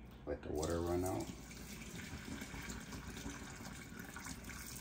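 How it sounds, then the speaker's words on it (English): Cooking water pouring out of a pot of cooked food held at an angle, a steady splashing trickle that continues at moderate volume after a brief spoken remark at the start. "You hold it right here, let the water run out."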